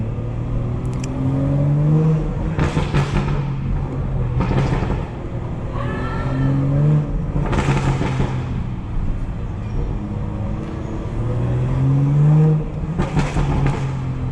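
A tuned 500 hp Stage 2 BMW 440i engine revs repeatedly in loud bursts, rising and falling several times over a continuous rumble, up close in New York City streets.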